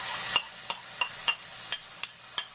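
Masala sautéing in a teaspoon of hot oil with roasted cumin seeds, heard as a steady soft sizzle punctuated by about eight sharp, evenly spaced clicks of a utensil stirring against the pan.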